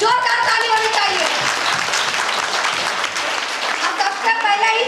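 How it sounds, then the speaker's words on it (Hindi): Loud, sustained applause fills a hall at a company's second anniversary celebration in India, a dense wash of clapping from the audience continuing throughout. "जोरदार ताली होनी चाहिए।"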